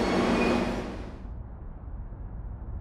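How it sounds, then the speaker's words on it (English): A subway train roars in loud and close, the rushing rumble and hiss fading as it slows to a stop. "I heard the sound of a subway train speeding towards the platform"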